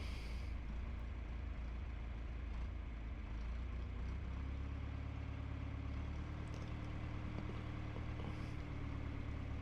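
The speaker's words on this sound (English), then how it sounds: "I have this backhoe in position, bringing up the throttle a little bit." Old John Deere backhoe engine running steady with its throttle raised a little, a continuous low diesel rumble that rises slightly partway through, with faint clanks around it and no talking.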